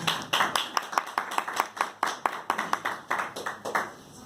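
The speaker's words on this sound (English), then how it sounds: "So give a round of applause to Mayor Howard for doing." A small crowd gives a round of applause at a community gathering, with separate sharp claps sounding fairly close in an uneven, thinning patter.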